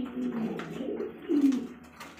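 Pigeons cooing at a pigeon farm, low soft coos repeating through the short stretch against a busy background, moderately close and fairly quiet.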